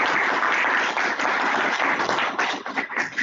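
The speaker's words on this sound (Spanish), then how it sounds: "aplauso." Steady applause from a conference audience at a university ceremony honouring a speaker, dense continuous clapping that thins slightly toward the end, with no voices.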